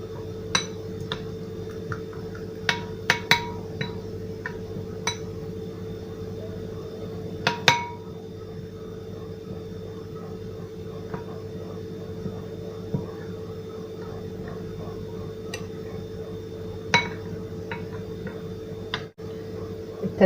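A spoon stirs an olive oil and lemon marinade for fish in a bowl, giving light, irregular clinks and taps against the bowl over a steady background hum.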